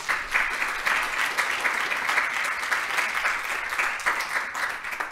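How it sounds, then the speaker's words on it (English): Audience at a conference session applauding its speakers, dense steady clapping sustained from start to finish with no voices on top. "I would like to have a round of applause for our speakers"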